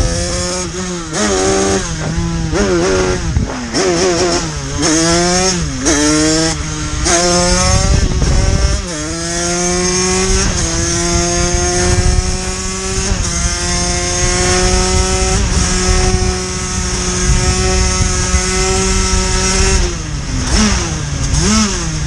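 A 2013 Gilera SMT motorcycle fitted with a 28 PWK carburetor and Stage6 parts revs loudly and close, running lean at low rpm, its engine note repeatedly climbing and dropping before holding a high, steady whine.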